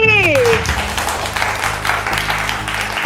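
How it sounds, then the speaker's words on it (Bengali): Applause rises for a mother and her daughters at a jewellery store family contest in Rampurhat, a crowd clapping loudly and steadily just after a voice finishes. "মাদার এবং ডটার্সদের জন্য হয়ে যাবে একটা বিশাল হাততালি"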